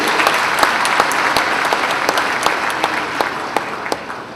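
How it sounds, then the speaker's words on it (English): Loud, sustained applause from a crowd at an investment forum, dense clapping continuing steadily throughout. "deserve a very, very resounding applause for daring the thing"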